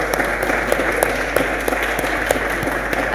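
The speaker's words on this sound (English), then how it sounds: "Everyone give Ed a round of applause." Audience applause at a lecture on ACL rehabilitation, a loud, close burst of rapid overlapping clapping that holds steady throughout.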